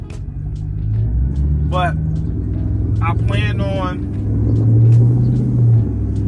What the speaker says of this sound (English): It's like a small misfire